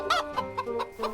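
Cartoon chicken clucking, several quick voiced clucks in a row, close and clear with nothing else behind them.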